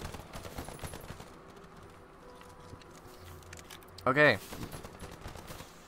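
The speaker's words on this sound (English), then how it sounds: "Who is shooting at what?" A short, loud burst of rapid gunfire erupts in the Earthfall co-op shooter, sharp and close above quieter in-game ambience, with a player saying a single word just before.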